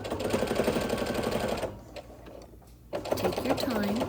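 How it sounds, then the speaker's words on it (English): A sewing machine runs steadily, stitching binding onto a quilt, its motor whirring at close range; it pauses briefly for about a second of near-quiet, then starts stitching again. "Now continue sewing down to the pen."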